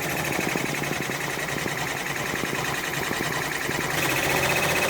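An OESD embroidery machine stitches a freestanding lace floral pumpkin design, producing a fast, steady mechanical whir with rapid repetitive needle ticking, close and continuous with no speech.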